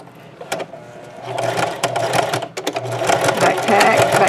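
A sewing machine back-stitches a placemat tote seam in short bursts, with loud mechanical needle chatter starting and stopping several times and then running steadily toward the end.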